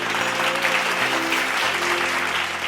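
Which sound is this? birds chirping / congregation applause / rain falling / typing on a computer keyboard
congregation applause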